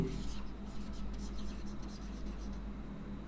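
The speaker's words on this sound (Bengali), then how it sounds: "আমি যদি এটাকে এইভাবে লিখি" A pen scratches across paper while a sentence is written, a faint scratching under a low steady hum, close and quiet, with a voice speaking softly over it.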